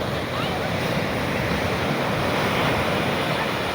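Waves and wind at Marina Beach in Chennai: a continuous broad roar of surf with wind buffeting the microphone, steady and fairly loud.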